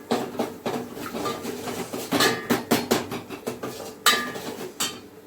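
A metal spoon clinks and scrapes against a pan in irregular bursts while tomatoes, chutney, turmeric and salt are stirred and sautéed in a home kitchen, the knocks close and crisp with no talk.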